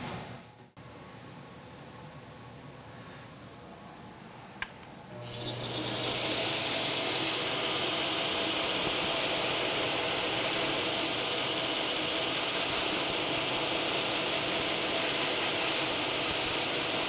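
Grinding wheel putting a convex grind on a knife blade: after a quiet start, the machine spins up and runs as a steady, loud, close whirring grind with no talk.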